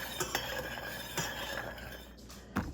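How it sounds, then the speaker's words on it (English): A spoon clinks and scrapes against a pot of autumn olive berry syrup being stirred on a stove, close and quiet, with a few sharper knocks over a steady background hum. "I'm gonna stir this constantly while this is doing so"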